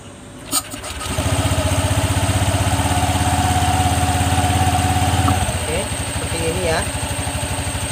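An automatic scooter engine cranks and catches, then settles into a steady, close, chugging idle with a fast even pulse. A voice talks over it near the end.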